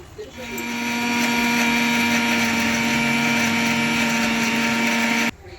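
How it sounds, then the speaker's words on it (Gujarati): A mixer grinder whirs steadily for several seconds as it grinds chopped onion into a paste, loud and close, with a strong tonal motor whine that spins up, holds, then cuts off abruptly. "હવે આપણે કાંદો લઈ લેવાનો છે જેના આવા ટુકડા કરી અને મિક્સર ગ્રાઇન્ડરમાં દળી લેશું"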